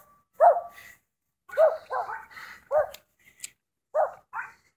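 A small dog barks in a series of sharp yips and short barks, close and loud with pauses between bursts.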